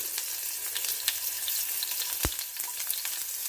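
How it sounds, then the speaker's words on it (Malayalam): Chopped onions frying in a pan for a crab dish, a steady close sizzle with a brief clink partway through, no voices. "ഓക്കെ, സവാള ഇങ്ങനെ ഇട്ട് കൊടുക്കുന്നു."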